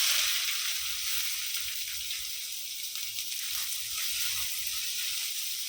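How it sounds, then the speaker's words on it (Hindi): Onions sizzle in hot oil in a pan with curry leaves, a loud, steady, close frying hiss that continues without pause. "प्याज डालेंगे"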